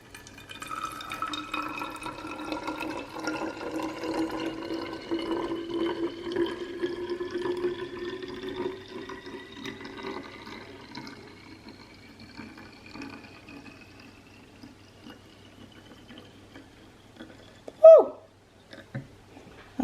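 Liquid hair spritz trickles steadily into a 200 to 250 ml bottle, the pitch rising slowly as the bottle fills, then a brief clunk near the end.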